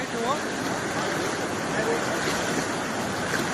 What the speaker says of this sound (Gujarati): હવે અમે થોડુંક પાણીનો પ્રવાહ વધારે હોવાથી મોબાઈલ અંદર નાખું છું